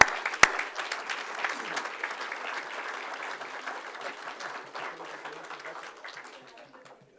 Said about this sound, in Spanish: Hay que darle un fuerte aplauso